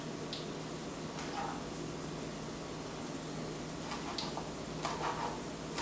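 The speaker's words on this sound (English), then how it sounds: "Now for my veggies, they're still currently sauteing" Vegetables sauteing in a pan, a steady low sizzle and crackle with occasional small pops and stirring touches, heard alone.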